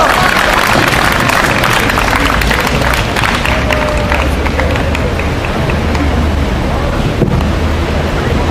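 A crowd at an outdoor protest rally over the Ssangyong crackdown gives loud, dense applause. The clapping is steady and continuous, mixed with wind-like noise, and some faint voices sit underneath.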